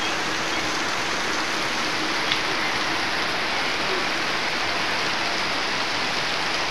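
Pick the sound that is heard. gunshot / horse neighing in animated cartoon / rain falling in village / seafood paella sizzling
rain falling in village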